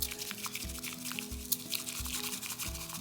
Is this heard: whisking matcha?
yes